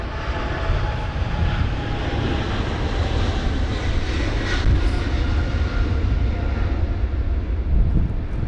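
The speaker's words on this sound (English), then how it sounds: "Here's the Air Canada on the move, the 777-300ER, off to Montreal" An Air Canada Boeing 777-300ER airliner taxis at London Heathrow during a storm, its steady engine roar broad and continuous, mixed with gusty wind buffeting the microphone, with no talk.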